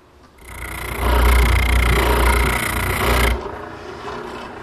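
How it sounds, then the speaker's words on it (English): Hand sanding of a wooden chair armrest: a loud, steady rasping scrape that starts abruptly, holds for about three seconds, then cuts off, leaving faint residual rubbing. "A little bit of sanding, and then I'll be ready to glue it up."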